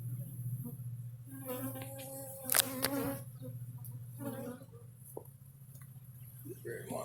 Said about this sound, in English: One of these yellow jackets.